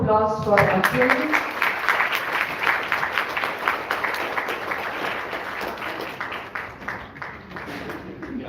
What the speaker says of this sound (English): Huge round of applause for Akhil.